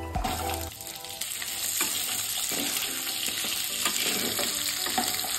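Onion, garlic and ginger frying in hot mustard oil, a continuous dense crackling sizzle with stirring scrapes, close and fairly loud throughout.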